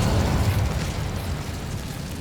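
Incendio fire spell cast in Hogwarts Legacy, a loud whooshing burst of flame that rolls on as a steady, dense roar with no voices.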